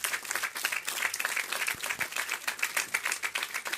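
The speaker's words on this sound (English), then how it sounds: "I think we should give the president a round of applause for his first graduation." Graduates and guests at the RVCC 2015 commencement ceremony applaud the college president at his first graduation, a dense crowd of hands clapping with a rapid, slightly pulsing rhythm heard from a distance in a large hall.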